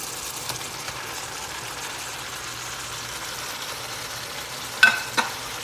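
Ground beef and onions frying in a pan make a steady, soft sizzle near at hand, with a couple of sharp clinks or scrapes near the end.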